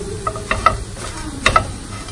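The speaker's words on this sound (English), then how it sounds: "And then, stir again." Food stirred in a pan, a few sharp scrapes and clinks of a utensil against the pan over a soft sizzle, close and clear with no voices.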